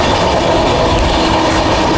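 A passenger train runs on the New Delhi to Gaya line, a loud, dense rumble of wheels on rails heard close up, with a steady roar and faint clatter throughout and no voices.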